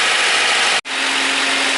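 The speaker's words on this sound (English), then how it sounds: "Engine is running" A Honda Civic engine idles with a steady, even drone, briefly cutting out for a split second before the same running sound resumes, close and loud with no talking.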